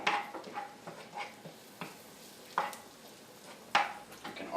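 Garlic and lemon zest frying in a pan as they are stirred, soft sizzling under repeated scrapes and light clinks of a utensil against the pan, close and fairly quiet.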